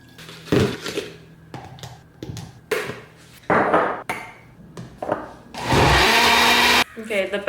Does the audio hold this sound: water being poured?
no